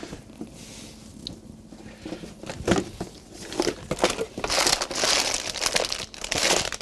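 Paper is handled and crumpled close by, with soft rustles at first that grow into dense, loud crinkling near the end.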